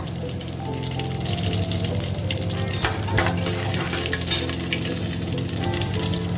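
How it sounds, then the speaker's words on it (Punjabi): Cumin seeds drop into hot oil for a tempering for a Punjabi-style pea curry, giving a loud, steady sizzle with crackling pops throughout and no voices. "ਹੁਣ ਸਾਡਾ ਤੇਲ ਵੀ ਜਿਹੜਾ ਜੀ ਗਰਮ ਹੋ ਗਿਆ ਜੀ ਅਸੀਂ ਇਹਦੇ ਵਿੱਚ ਐਡ ਕਰਦੇ ਹਾਂ ਜੀ ਜੀਰਾ"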